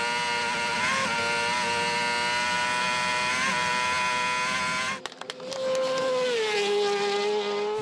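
A racing motorcycle at the Isle of Man TT roars past at around 330 km/h, a loud, high-pitched engine wail that cuts out abruptly with a brief gap before another shrill engine note returns and bends downward.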